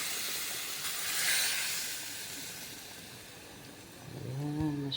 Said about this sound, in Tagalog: Mga guys, lagay na naman natin yung ating gata.